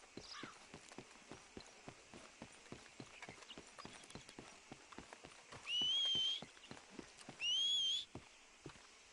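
Horse hooves clip-clop at a steady trot in Red Dead Redemption 2, a regular rhythm of soft thuds throughout, interrupted twice by short, loud whistles.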